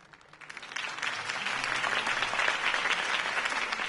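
Crowd applause following a campaign speech in Batman: The Telltale Series, building from scattered claps into a dense, sustained ovation.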